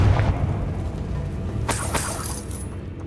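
A Confringo spell blast in the video game Hogwarts Legacy gives a deep, booming explosion with a rumbling low end, followed by a couple of sharp crackling bursts, heard close and loud with no talk.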